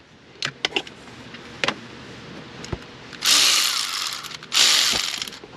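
Tool work on the bolts of a 2014 Jeep Grand Cherokee 5.7 Hemi: a few scattered clicks and knocks, then two bursts of loud, buzzing power-tool or ratchet whirring close by.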